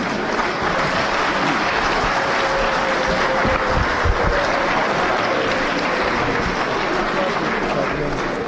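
A large outdoor crowd at a political rally claps steadily and loudly, a continuous wash of applause with a few low thumps partway through.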